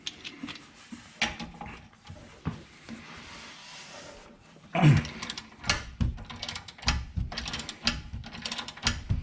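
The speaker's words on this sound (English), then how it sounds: "Now I'm ready to remove the caliper bracket." A ratchet clicks in short bursts while loosening the 14 mm bolts on the rear brake caliper bracket of a 2009 Scion xB, close and fairly quiet, with metallic clinks and handling noise between runs of ratcheting.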